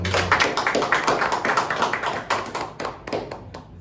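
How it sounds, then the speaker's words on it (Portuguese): A small group claps in a quick, uneven burst of applause lasting a few seconds, close by and fading toward the end. "Palmas para Eduardo."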